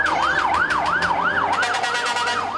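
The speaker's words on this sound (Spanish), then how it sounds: "El sonido de las sirenas a la medianoche despertó a todos los habitantes del edificio Rodeo Verde" Emergency vehicle sirens wail at midnight outside a residential building in Medellín where a fire broke out in a garbage chute, a loud, near, rapidly cycling up-and-down siren with no talking.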